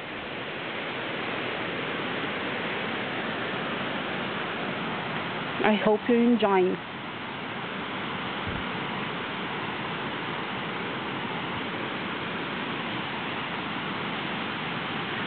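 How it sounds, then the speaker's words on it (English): Steady broadband rush of a waterfall at Pousada das Gabirobas in Paraná, Brazil, continuous and fairly loud throughout, with a brief spoken phrase cutting through near the middle. "This noise is the waterfall's noise."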